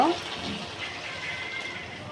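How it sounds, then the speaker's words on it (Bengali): Water is poured into cooked spice masala for a thin tangra fish curry with potato and eggplant, giving a steady splashing rush up close, with a brief voice at the start. "এবার আমি জল দিয়ে দেব"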